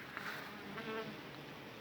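A steady, dense buzzing of many honeybees fanning to ventilate at the hive in an apiary hums continuously, a soft low drone without breaks.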